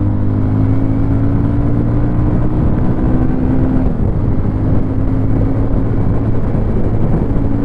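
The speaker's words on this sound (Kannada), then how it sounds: "9000 RPM ತನಕ ಟಚ್ ಆಯಿತು. ಸೆಕೆಂಡ್ ಗೇರಲ್ಲಿ ಇದ್ದೀನಿ." A 2024 Bajaj Pulsar 220F motorcycle engine revs loud and close through the gears, a dense buzzing drone that dips briefly at a shift midway before pulling on steadily.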